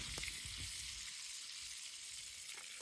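Tomahawk steak sizzling in a hot pan with a good amount of butter over a charcoal fire setting, a steady broadband hiss throughout with a few faint clinks and stirring touches, close and continuous with no talking.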